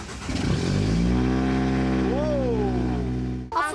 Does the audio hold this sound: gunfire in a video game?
no